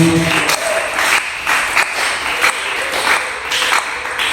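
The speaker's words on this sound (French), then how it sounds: "Est-ce qu'on peut encore acclamer pour le Seigneur?" A church congregation applauding together, a dense, loud, continuous wash of many hands clapping, with steady rhythmic accents pulsing about twice a second throughout.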